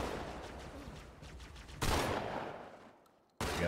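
Gunfire in the video game Halo 2 Anniversary, heard as a distant, muffled burst of rapid shots that cuts off abruptly and then starts up again, fairly faint, with no talking.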